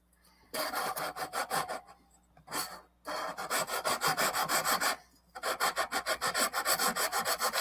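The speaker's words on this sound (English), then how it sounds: "I'm filing the pickup." A fret leveling file rasps across a guitar pickup in quick rhythmic strokes, loud and close, the bursts of scraping broken by short pauses and no talking.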